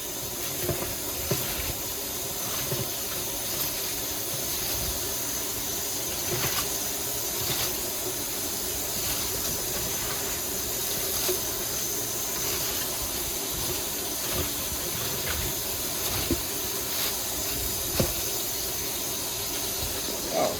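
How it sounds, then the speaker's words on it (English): Cabbage being washed under cold running tap water, a continuous broad hissing splash of water with faint irregular knocks and rustles of leaves throughout. "washing the cabbage with cold water."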